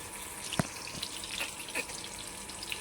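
Four or five marinated fish pieces fry in a pan, a soft steady sizzle with a sharp clink or spatter near the start and light crackles throughout, close and fairly quiet.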